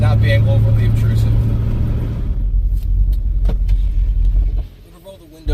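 Car exhaust fitted with a Magnaflow muffler, a deep bassy rumble heard from inside the car, droning steadily before dropping away near the end, with a person talking over it.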